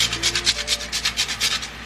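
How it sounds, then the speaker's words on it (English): Whole nutmeg grated on the small side of a grater, a quick steady run of about ten rasping scrapes, close and crisp with no talking. "I'm just going to grate some of this whole nutmeg in there, just using this small side of the grater."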